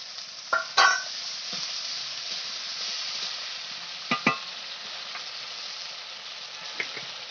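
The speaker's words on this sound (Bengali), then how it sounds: "মশলাটা ভালো করে কষানোর জন্য একটু জল দিয়ে দিলাম।" Spices sizzle steadily in a pan with a splash of water while cauliflower and rohu fish curry is made, with a few sharp scrapes of stirring at the start, midway and near the end; no one talks.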